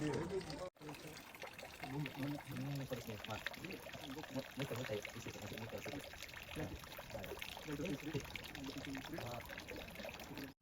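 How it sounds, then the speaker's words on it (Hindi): Water pours and trickles steadily at a Japanese temple washing basin as visitors rinse their hands, a soft continuous splashing heard under nearby conversation. "अभी वो भी हाथ धोएगा उस पानी से"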